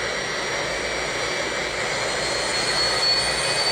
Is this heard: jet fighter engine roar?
yes